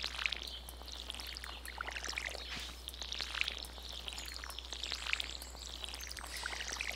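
A watering can pours over garden crops in Stardew Valley, a steady soft splashing stream repeating in gentle swells over a low constant hum.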